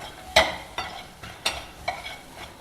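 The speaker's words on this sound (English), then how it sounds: "Lightly saute the onions till they become translucent" Onions lightly sautéing in a pan with salt: soft sizzle under four or five sharp stirring scrapes spaced about half a second apart, close and fairly quiet, no voices.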